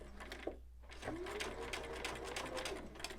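A sewing machine stitches a fall leaves table runner in a steady whirring, rapidly ticking run, close and fairly quiet, with a brief pause near the start.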